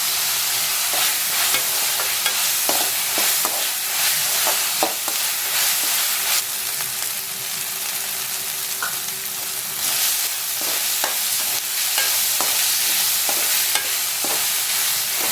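Onions with ginger garlic paste sauté in a pan for Chennai-style vada curry, a steady loud sizzle under repeated scraping stirs from a spatula, close up with no voices.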